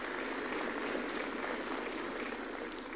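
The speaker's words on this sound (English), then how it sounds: "A round of applause." An audience at a State House address in Nairobi applauds, dense clapping from many hands sustained evenly for a few seconds with no speech over it.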